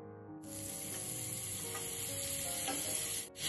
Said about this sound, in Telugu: రెండో వైపు కూడా మనం ఫ్రై చేసుకోవాలి.